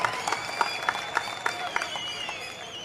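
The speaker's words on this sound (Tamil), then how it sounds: "கடமை தடுக்கிறது, அதனால் நீங்கள் தட்டி விடுங்கள் அவர்களுக்கு பதிலாக." Crowd applause at an outdoor public political meeting in Trichy, a steady wash of clapping with sharper bursts recurring through the stretch, fairly distant and continuous, no speech over it.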